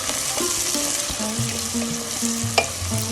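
Spice paste fries in a pan for mutton bhuna, a loud close sizzle with bursts of stirring scrapes and a sharp clink near the end, no voices.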